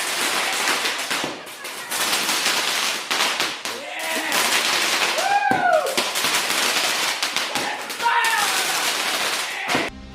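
Repeated bursting explosions from Gourgeist's Seed Bomb attack in the Pokémon XY anime, crackling pops mixed with shouting voices and music, loud and busy throughout.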